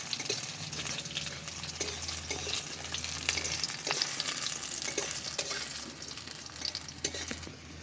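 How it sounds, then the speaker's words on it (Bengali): Polao ingredients, cashews and raisins among them, fry in a pan over low heat for basanti polao, a steady soft sizzle with light stirring scrapes, faint and continuous throughout. "এবার আমি এগুলো ভালো করে নাড়াচাড়া করে ভেজে নেব। বেশি জাল দেবো না, অল্প আঁচে ভাজবো।"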